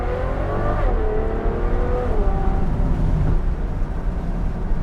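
Ferrari FF with a burble/crackle exhaust tune revving loudly nearby, its engine note rising and falling in steady pitch sweeps over a dense, rumbling exhaust roar with no talking.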